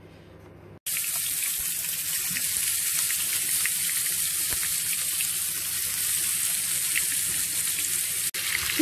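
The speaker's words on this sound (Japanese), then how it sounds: "火がよく通るように炒めてください。" Sliced lotus root goes into hot oil in a frying pan. It bursts into a loud, continuous sizzle after a brief quiet moment and keeps frying steadily, with a short break near the end.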